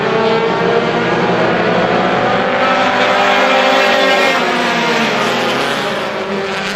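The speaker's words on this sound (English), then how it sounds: "Falling back on the restart, allowing Zach Audette to slide up on the inside now and take the lead." Race cars roaring around a short oval track at a local motorsports event after a restart, a loud, continuous dense engine drone of a close pack with shifting pitch and no pause throughout.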